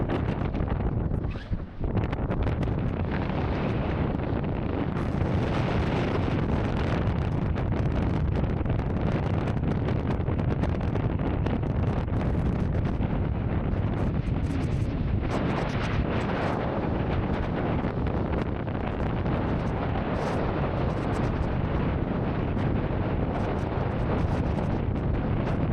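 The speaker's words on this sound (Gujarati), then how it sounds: "બૂમ પડે છે પવન હો ભાઈ" Strong wind roars at Kalu Waterfall in Malshej Ghat, Maharashtra, a loud, continuous buffeting rush that pounds the microphone for the whole stretch, with no voices heard.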